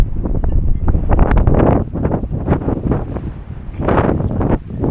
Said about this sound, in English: Okay, so it's going to be windy